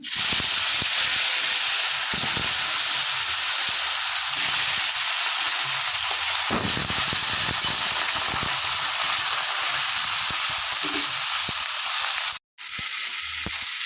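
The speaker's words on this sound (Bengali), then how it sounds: "এই তেলেই বাদবাকি মাছগুলো ভেজে নেব" Loud, continuous hissing sizzle of bhola fish frying in oil, nearly unbroken, with a brief cut near the end and scattered faint clinks.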